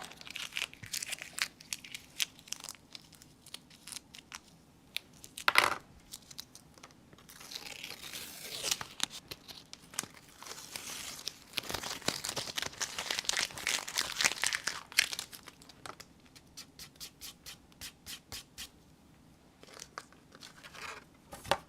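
Crinkly paper crackle and tearing as a watercolor painting of a ghost cat is peeled off a painting board, irregular close bursts with a sharp snap partway through, no talk.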